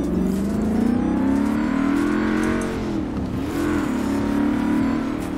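A car engine drones and revs steadily in Forza Horizon 4 while driving up into the mountains, the pitch rising and dipping with throttle changes, loud and close with no talking.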